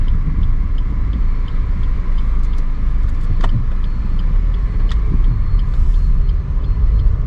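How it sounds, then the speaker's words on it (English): A 2021 Maruti Suzuki S-Cross BS6 engine rumbles steadily at high revs under throttle with a deep, continuous drone and a few faint clicks. "giving a higher throttle, some rpm sound is coming"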